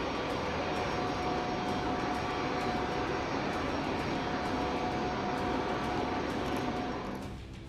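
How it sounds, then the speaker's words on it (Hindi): Engines of an Ilyushin IL-80 airborne command aircraft drone in a loud, steady roar with a constant whine, unbroken for several seconds before fading slightly at the end. "ये विमान इल्यूशिन IL-80 मैक्स डोम्स है।"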